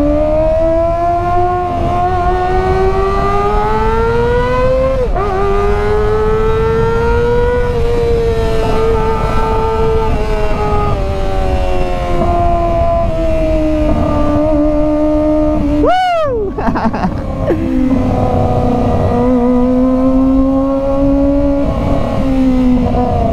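A Kawasaki ZX25R motorcycle engine revs loud and close with a high, screaming whine that holds and climbs, then a sharp blip and drop before it settles back into a sustained rev.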